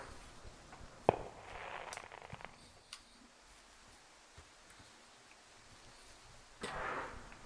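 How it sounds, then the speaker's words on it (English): Distant fireworks in the video game Firewatch, with one sharp crack followed by a soft crackling spray, a few faint pops, then another fizzing burst, set against a quiet outdoor background. "whoever's lighting off these fireworks"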